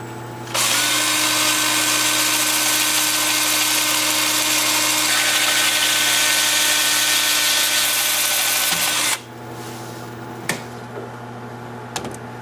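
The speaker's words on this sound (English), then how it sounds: "Nice, time for sanding." A power sander runs against a wood-turned rectangular winged bowl, a loud steady high-pitched whir lasting about nine seconds before it stops, followed by a few light knocks and quiet handling.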